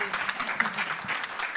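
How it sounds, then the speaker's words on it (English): An audience at a university research week event gives a brief burst of applause, dense, moderately loud clapping with a voice faintly underneath. "A round of applause for my colleagues here."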